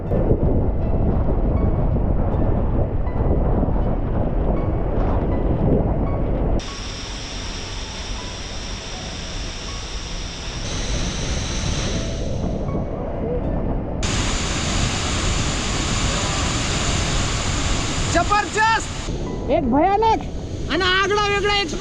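The Kumbhe waterfall thunders with water falling under high pressure, a dense, continuous roar that fills everything, with voices briefly rising over it near the end.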